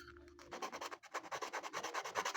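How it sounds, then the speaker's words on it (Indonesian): Steady rhythmic rubbing of 120-grit sandpaper against a hard fishing lure body, close and alone, in quick repeated back-and-forth strokes after a brief pause. "Tinggal kita rapikan dengan amplas mas bro"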